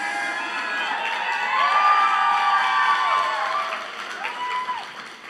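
Graduation ceremony crowd at Timberline Secondary cheering, whooping and applauding, loud and sustained for about five seconds, swelling in the middle before easing slightly.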